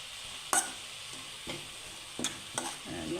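Drumstick leaves fry in a pan for an egg thoran, with a spoon stirring them through a soft, steady sizzle and a few sharper clinks and scrapes against the pan.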